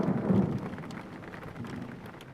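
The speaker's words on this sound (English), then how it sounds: "And it's raining again, but it's like that." Rain falls steadily in the video game Jalopy, a soft diffuse hiss with a low rumble near the start, at moderate level with no talking.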